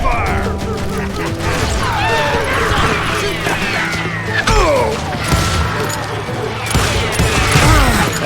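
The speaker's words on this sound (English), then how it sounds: "Covering fire!" Covering gunfire in the Wild West shooter Call of Juarez: Gunslinger comes as loud, sustained volleys of shots with ricochet whines and crashes, mixed with game music and effects throughout.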